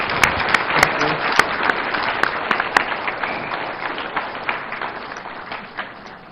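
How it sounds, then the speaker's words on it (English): A policy discussion audience applauds President John Mahama with loud, crisp clapping and a few sharp individual claps up front. The applause thins and fades toward the end, and a voice is faintly audible underneath. "I will ask for another round of applause for President Mahama."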